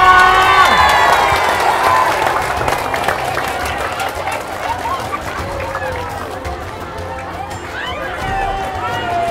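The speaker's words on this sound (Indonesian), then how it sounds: "Boleh minta tepuk tangannya" Studio audience applause on an Indonesian home-makeover show, steady clapping blended with crowd chatter and cheering throughout.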